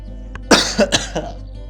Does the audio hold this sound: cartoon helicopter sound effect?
no